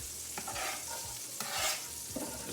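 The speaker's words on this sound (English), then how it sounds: "And you can hear that sizzle." Garlic sizzles and crackles steadily in olive oil in a pan while a utensil stirs and scrapes against it, close up, with no talking.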